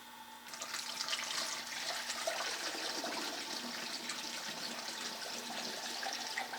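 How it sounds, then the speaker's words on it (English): Alcohol stove fuel poured through a funnel into a one-liter Trangia fuel bottle, a steady close liquid rush and trickle lasting throughout without pause. "I'm going to use my funnel here, and I'm going to fill this fuel bottle up."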